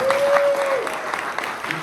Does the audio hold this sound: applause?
yes